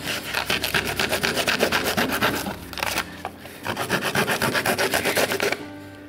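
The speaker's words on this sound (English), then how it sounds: "I'm going to cut reasonably close to that edge, cut off the excess." A rosette's excess edge is trimmed close against the edge of a table, giving a steady run of rapid, rasping rubbing strokes up close, briefly pausing midway before resuming.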